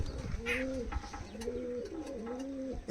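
Teddy pigeons in a loft coo close by, a few soft, rolling, rising-and-falling calls repeating in quick succession against a quiet background.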